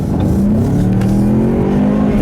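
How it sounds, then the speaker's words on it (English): A Ford Mustang accelerates hard on a wet road, its engine rising steadily in pitch through the gears with a loud, continuous, close-up roar. "I'll leave you guys with a nice little acceleration here"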